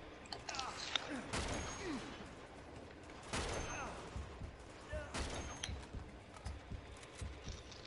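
Sniper rifle gunfire in Uncharted 2, several sharp loud shots spaced a couple of seconds apart, ringing out over game ambience while players talk.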